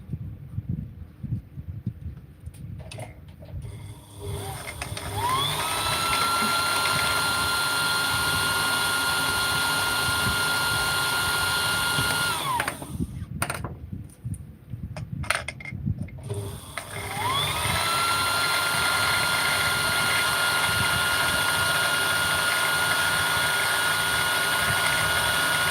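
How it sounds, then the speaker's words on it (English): Sewing machine winding a full bobbin: two long, steady high-pitched motor whines that ramp up, hold for several seconds and cut off, with a short pause between runs. "I'm just going to wind the full bobbin"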